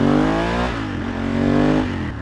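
A motorbike engine revs loudly and close by, its pitch sweeping up, dipping around the middle, then climbing again in a steady, sustained roar with no talking.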